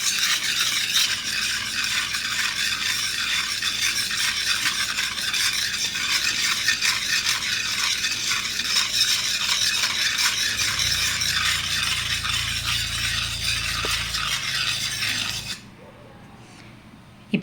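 Sugar mixture for a pan-made chocolate cake being whisked steadily in a bowl, a continuous rasping, stirring scrape running for about fifteen seconds before stopping abruptly, close and fairly loud with no talking.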